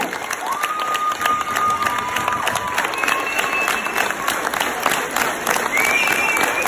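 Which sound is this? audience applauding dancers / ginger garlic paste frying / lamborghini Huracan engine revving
audience applauding dancers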